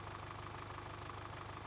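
A Kramer Allrad tractor in Farming Simulator 2013 idles with a steady, faint, low engine hum and rhythmic knocking pulse throughout.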